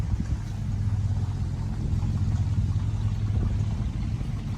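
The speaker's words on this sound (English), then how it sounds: "They're a little noisy here at the campground. Especially that old 1960s Chevy." Cars rolling past at a campground, among them an old 1960s Chevy, give a continuous low engine rumble and tire drone that stays steady and fairly loud, with no talking.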